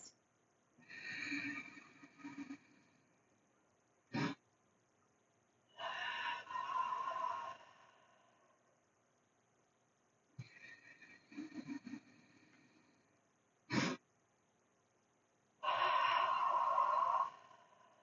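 Heavy workout breathing: deep, drawn-out inhales and exhales in about four long bursts, with short sharp breaths between them. The breaths are close and fairly quiet, with silence in the gaps.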